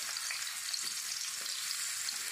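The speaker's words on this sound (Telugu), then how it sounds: "నూనెలో ఫ్రై చేసేసేయాలన్నమాట." Raw turmeric roots frying in oil, a dense, even hiss of sizzling throughout, fairly faint and unbroken, with no stirring strokes or speech.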